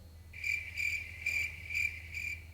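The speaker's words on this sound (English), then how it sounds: "That's when Ryan puts the crickets noise there" Cricket chirping sound effect dropped into a football podcast: a steady run of about five pulsed, high trills at even intervals, clear and alone with no talking.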